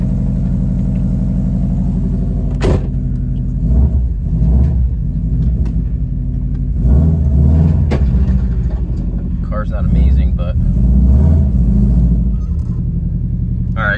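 Engine of a crashed car idling and revving as it tries to reverse, a loud, close, steady low rumble with a sharp knock and a few surges in revs.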